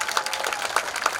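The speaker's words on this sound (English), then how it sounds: "Give them a big round of applause." An audience claps for marching band student leaders on the field, a short burst of dense, steady applause with a few sharper individual claps standing out.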